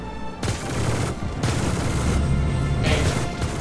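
Dense bursts of in-game ballistic gunfire in the space game Star Citizen, loud and continuous volleys with short gaps, heavy low booms mixed with crackling impacts.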